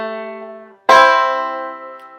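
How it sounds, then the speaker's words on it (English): Banjo in drop C tuning plays the pickup notes of Kansas City Railroad Blues: a fading held tone, then a bright plucked strum that rings out and decays, close and alone. "This one starts with a set of pickup notes that sound like this."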